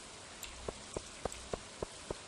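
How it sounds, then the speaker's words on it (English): Rain in the farming game Stardew Valley, a soft constant patter with a regular series of distinct drip-like ticks about every quarter second, quiet and without any voices. "Valley looks more interesting in the rain, don't you think?"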